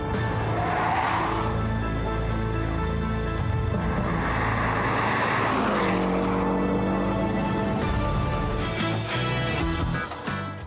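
A Porsche 718 Boxster S makes an unbraked lane change at 110 km/h with slight oversteer, its engine roaring loud and steady while the tires squeal continuously.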